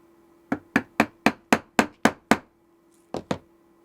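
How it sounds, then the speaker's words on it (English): A brass dead blow hammer, struck with its brass face, taps a small metal pin in a quick run of eight sharp, ringing strikes, then a short pause and two more hits, close and loud with no talking. "I'm using my brass dead blow hammer, the brass side, because we're going to be hitting a little metal pin"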